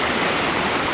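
Maliko Falls waterfall pours in a steady, dense rushing roar, loud and close, with no break and no voices.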